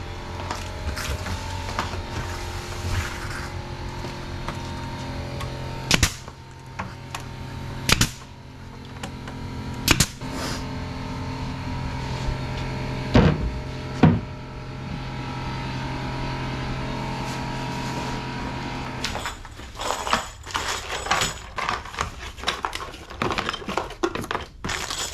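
A brad nailer drives 1.25-inch brads into an RTA cabinet. Several sharp, isolated pops are spaced a few seconds apart, then a quicker cluster of shots follows near the end, all over a steady low background hum.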